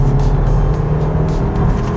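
A Hyundai Kona with a 198-horsepower gasoline turbo engine in Eco mode, pulling hard at full throttle from around 70 km/h. A loud, steady drone of engine and road noise comes from inside the cabin.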